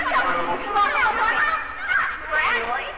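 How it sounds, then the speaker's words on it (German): A bird honks in a video game set in a night-time amusement park, a loud goose-like honking that rises and falls in several bursts, close and alone. "Das ist der Vogel."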